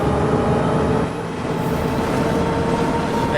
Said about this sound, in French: Alors le bruit du bus est un peu fort.